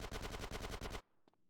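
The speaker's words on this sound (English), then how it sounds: "Upgrade my SMG skills so I can walk and shoot." A submachine gun firing in GTA San Andreas: a rapid burst of about a dozen evenly spaced shots lasting a second, loud and close, cut off sharply and followed by a faint click.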